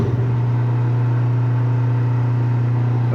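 A Bauer brake test stand runs steadily in low pressure manual mode while a brake is bled at 55 psi, giving a constant loud motor hum with a strong low drone and no talk.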